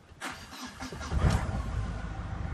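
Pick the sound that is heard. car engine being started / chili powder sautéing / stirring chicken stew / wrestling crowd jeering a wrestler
car engine being started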